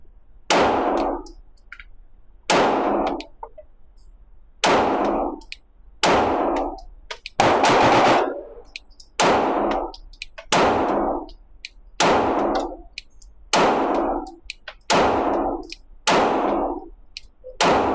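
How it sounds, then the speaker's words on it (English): A Stoeger STR-9 and an HK VP9 pistol fire at a target: about a dozen loud single shots, evenly paced roughly a second and a half apart, each a sharp crack with a ringing metallic clang. "Not really trying to do accuracy, just more or less feeling the recoil, the difference in between the two guns."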